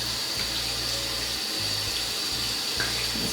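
Tap water runs steadily into a sink while hair brushes are rinsed of blue and purple dye, the stream broken by brief shifts and splashes as the brushes move under it.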